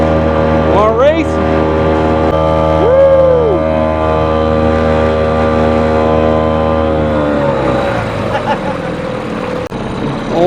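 An old Mercury 2.5 hp outboard motor drones loud and steady on a small boat, its pitch sliding as the throttle shifts, then dropping into a rougher, lower chug.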